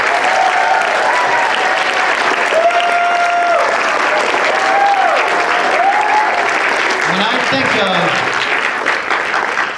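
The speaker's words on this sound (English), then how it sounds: "Let's give them a round of applause." Dense, loud applause from an assembly audience at a school event, sustained steadily throughout, with faint voices and a few tonal whistles or cheers rising above the clapping.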